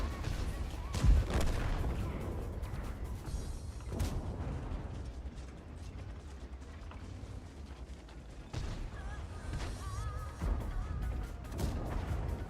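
Tank cannon fire in World of Tanks, heavy booming shots over a steady rumble of engines and tracks, with a few distinct blasts standing out from the continuous mechanical noise.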